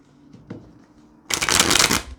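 A deck of oracle cards is shuffled close by in one dense burst of rapid riffling that lasts under a second, preceded by a few light taps and handling sounds.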